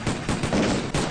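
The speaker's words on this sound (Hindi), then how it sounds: "गोली चल गई" Gunfire erupts in a Hindi film scene, loud broadband cracks repeating several times within about a second with no voices over them.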